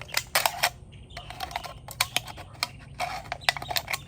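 Scissors cut down an aluminum can to its bottom to make plant tags, producing a series of sharp, close snipping and crinkling clicks in irregular bursts, with no talking.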